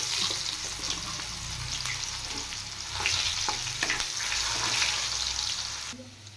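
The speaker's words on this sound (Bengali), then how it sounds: "এবার মাছ ভাজা তেলে আমি একটা পেঁয়াজ কেটে নিয়েছি," Sliced onion goes into oil left over from frying fish, a steady close sizzle with intermittent stirring scrapes, fading out at the end.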